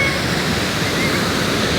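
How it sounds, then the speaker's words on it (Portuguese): Paiquerê waterfall on the Piquiri river roaring as a steady, loud, broadband rush of falling water, continuous and close with no gaps, alone without any voices. "Olha a queda d'água."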